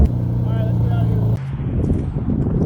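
A twin turbo Infiniti G37 driving over a rough road, a loud steady engine drone and low rumble with bumpy thuds, briefly dipping midway, and a voice talking over it.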